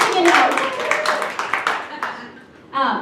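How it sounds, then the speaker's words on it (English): An audience claps in a short burst of scattered hand claps with overlapping voices, easing off near the end before a fresh swell of clapping rises. "Let's clap for that."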